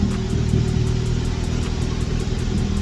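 A turbocharged Honda engine idles steadily up close, a constant mid-pitched drone with faint regular popping ticks from the exhaust, no voices.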